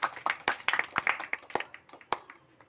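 Scattered hand clapping from a small outdoor crowd at a village street performer's show, a street magician's act, with sharp irregular claps and a faint voice in the background.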